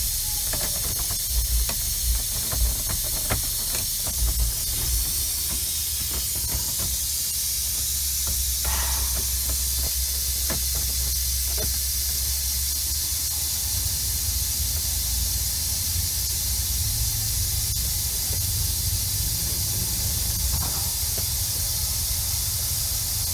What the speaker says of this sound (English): there's a leak in the dash already, so, and it's dropping pressure pretty fast